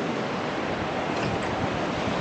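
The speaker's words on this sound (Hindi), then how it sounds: "पानी का फ्लो बहुत ज़्यादा तेज है यार।" Fast-flowing Ganges river water rushes past Har Ki Pauri ghat in Haridwar, a dense, steady, loud roar of churning water with no speech.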